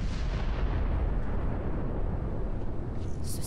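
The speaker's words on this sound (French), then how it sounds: "Ce satané canon." Dense, continuous rumbling barrage of heavy cannon fire in the video game Warhammer 40K, loud and sustained, with booms blending into a roaring wall of sound.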